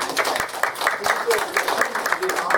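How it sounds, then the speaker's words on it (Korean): A church congregation at a Sunday worship service claps to welcome a first-time visitor, a brief scattered round of applause mixed with voices talking over it. "우리 박수 한번 치겠습니다."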